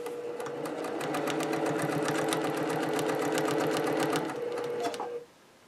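A domestic sewing machine runs steadily at a rapid stitching rhythm during ruler quilting, close and continuous for about five seconds before stopping abruptly.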